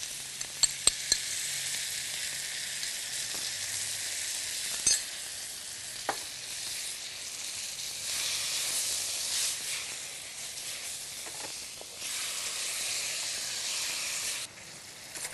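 Fish stir-frying in a hot pan as sweet and sour sauce goes in, a steady bright sizzle and hiss with a few sharp clinks of utensils and a brief louder burst near the start.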